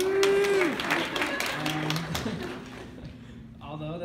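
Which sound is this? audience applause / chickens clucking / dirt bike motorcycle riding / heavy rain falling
audience applause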